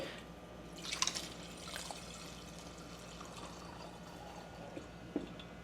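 Hops liquid drips through a funnel strainer, making faint, sparse trickles and a few light drips in a quiet room.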